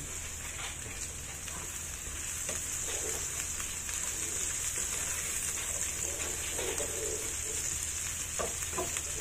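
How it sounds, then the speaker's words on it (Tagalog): Garlic fries in a pan with a continuous, even sizzle and hiss that holds steady the whole time, with no talking. "i-fry natin ang garlic. Patuyuin natin yan hanggang sa lumabas yung, yung aroma ng garlic"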